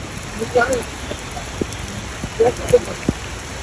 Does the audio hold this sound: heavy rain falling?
yes